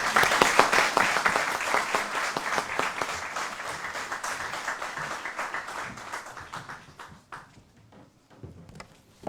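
An audience applauds to welcome the Chief Minister to a keynote address at Kellogg College, Oxford, with sustained, dense clapping close by that thins out and fades near the end.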